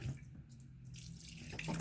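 Water pours in a steady splashing stream into the coolant reservoir of a 2016 Mercedes-Benz CLA250 Turbo, gurgling and fluctuating, with a few brief clinks, no voices.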